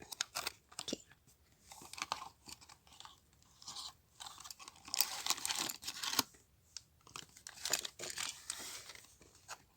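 The plastic packaging of a Bandai Demon Slayer mini figure set is being cut open, giving close, irregular crinkling, snipping and tearing noises in uneven bursts with no talking.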